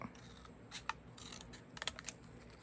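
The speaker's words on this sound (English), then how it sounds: "Then I just cut it out." Scissors snip through a small paper tag for a handmade undersea-themed craft, giving a few close, crisp cuts and rustles of paper over a quiet room hiss.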